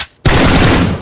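Rapid automatic gunfire in the mobile battle royale game BGMI, a loud sustained burst of shots that starts abruptly after a brief quiet moment, with no talking over it.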